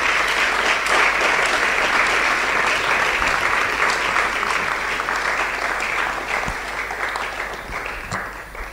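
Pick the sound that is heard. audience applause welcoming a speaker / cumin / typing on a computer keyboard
audience applause welcoming a speaker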